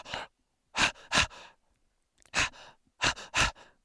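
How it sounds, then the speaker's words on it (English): Heavy, rasping breaths from a rhino only a couple of metres away, arriving in close, harsh bursts separated by short pauses, loud and unaccompanied by talk. "His breath was rasping"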